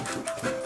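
A dog pants quickly in a workshop, short breathy rhythmic puffs heard up close and filling the brief moment.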